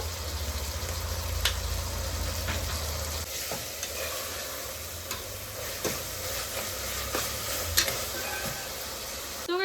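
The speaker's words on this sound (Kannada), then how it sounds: "ಟೊಮೆಟೊ ಫುಲ್ ಕಂಪ್ಲೀಟ್ ಸ್ಮ್ಯಾಶ್ ಆಗೋ ತನಕ ರೋಸ್ಟ್ ಮಾಡ್ಕೊಳ್ಳೋಣ" Tomatoes roasting in a pan with spice powder, cinnamon and cloves give a steady loud sizzle and crackle, broken by occasional scraping clicks of stirring against the pan.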